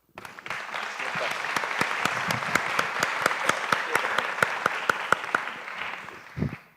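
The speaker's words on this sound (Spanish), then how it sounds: "Un aplauso para..." An audience at a documentary pitching forum breaks into steady applause, a dense wash of clapping with a few sharp individual claps standing out, fading after about six seconds.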